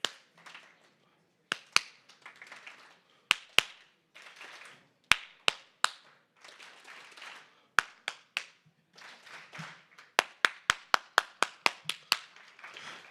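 An audience at a morning plenary gathering claps along in scattered, uneven bursts, sharp individual claps standing out between softer clusters of hand claps across the whole stretch.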